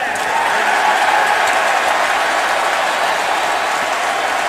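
Fans packed into a stadium at an Oakland Raiders home football game against the Kansas City Chiefs raise a loud, sustained roar of cheering and applause that holds steady throughout.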